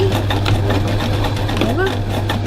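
A sewing machine runs steadily, stitching the sides of a no-zip crossbody bag with a rapid, even hum, while a voice speaks over it.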